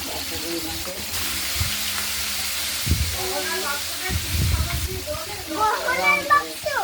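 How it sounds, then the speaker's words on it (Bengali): Shrimp sizzle and hiss steadily in a hot pan, along with a piece of fish tail, for a potato and ground-spice shrimp curry; the frying hiss runs throughout while a person talks over it, with occasional louder stirring bursts. "চিংড়ি মাছগুলোকে আমরা ভাজি, আর ওর সঙ্গে এক পিস লেজা আছে সেটাও ভেজে নেব"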